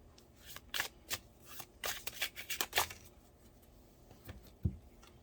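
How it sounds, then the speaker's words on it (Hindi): Tarot cards are drawn and shuffled from a deck in a series of close, soft papery swipes and flicks, clustered in quick bursts with a short pause, then one dull tap near the end. "अब लास्ट कार्ड निकालेंगे हम"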